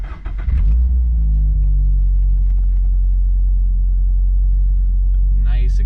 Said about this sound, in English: Nice exhaust tone there, very tasteful.